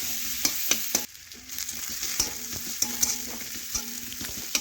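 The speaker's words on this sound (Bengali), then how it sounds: "এখন পেঁয়াজ একটু তেলের সাথে লাল লাল করে একটু ভেজে নেব" Chopped onions frying in oil in a pan, a steady close sizzle with repeated sharp scrapes and clicks of stirring throughout, no talking.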